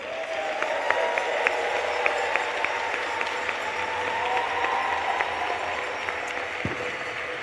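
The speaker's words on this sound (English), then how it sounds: "take a bow and a round of applause yourself" An audience at a youth cricket challenge event claps steadily for several seconds, a sustained wash of applause heard from a distance with no talking over it.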